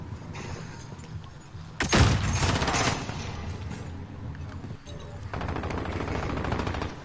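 Rapid gunfire in a PS4 shooter game, with a loud burst of shots that flares up sharply, then continuing bursts and a rattling automatic stretch toward the end over game background noise.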